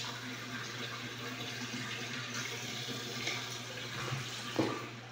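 Water runs steadily from a faucet into a simple kitchen sink, a continuous close splashing hiss with a couple of brief knocks near the end and no talk.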